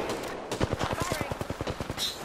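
A player's automatic weapon fires in a shooter game, a rapid steady string of around fifteen sharp shots in one sustained burst, close and prominent, with brief quieter moments before and after.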